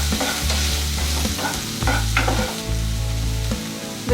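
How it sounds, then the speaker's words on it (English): Finely chopped red onions hit hot oil with green chilies, sizzling and frying loudly while being stirred, with no one speaking. "In goes our finely chopped red onions."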